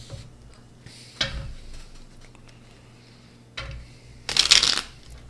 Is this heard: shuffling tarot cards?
yes